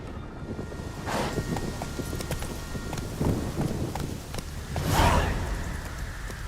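Hoofbeats of the horse Roach in The Witcher 3: Blood and Wine, soft clip-clop steps trotting over a rainy-sounding backdrop, with a few louder swells of movement, moderately faint and without speech.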